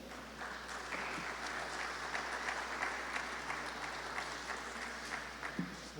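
An audience at an industrial forum in Chiclayo greets a speaker with applause, a continuous bed of many hands clapping, moderately distant and steady throughout with a faint voice briefly audible near the end.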